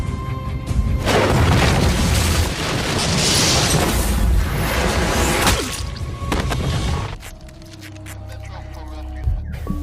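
A loud explosive blast destroys a tree in a scene from the TV series 9-1-1, a roaring, sustained rumble with crashing debris that fades into quieter scattered clatter and ambience.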